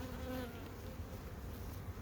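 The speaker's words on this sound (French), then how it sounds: "Cette ruche là, si tout va bien, je la change la semaine prochaine." Honeybees buzzing steadily around a hive in late summer, a dense continuous hum from many insects close by, with no talk over it.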